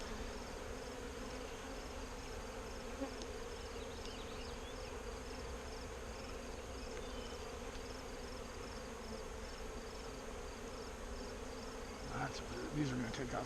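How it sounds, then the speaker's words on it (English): Healthy honey bee colony with plenty of brood buzzing inside a hive box: a dense, steady, close-up drone that holds throughout with no break. "These are very healthy bees."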